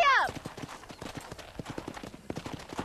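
Horse hooves clip-clopping in the video game Red Dead Redemption, a rapid, even trot of hoofbeats, close and fairly loud, following a brief whinny at the start.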